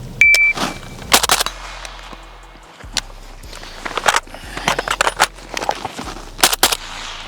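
Suppressed shots from a PSA AK short-barreled rifle crack out in sharp, scattered bursts during a tactical reload drill, with brief quiet gaps between groups.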